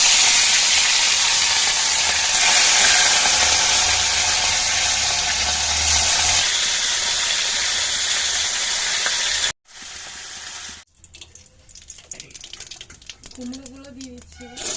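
Rohu fish fries in hot oil with a loud, dense sizzle lasting about nine seconds, then the sound cuts abruptly to quieter kitchen noise.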